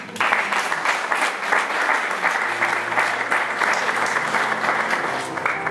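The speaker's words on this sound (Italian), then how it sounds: "quindi chiedo un bel forte applauso" Sustained applause from an audience at a poetry award evening, a full, even crowd of clapping that holds steady throughout with faint voices mixed in.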